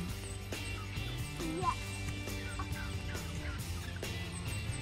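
Several turkeys gobble in bursts, close by, with clucking and a low steady hum underneath.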